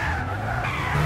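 Tires squeal in a Gran Turismo 6 drag race, a short, loud, continuous skid with an engine tone shifting underneath, close and alone for about a second.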